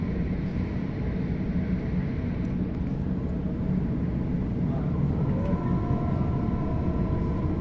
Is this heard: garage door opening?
no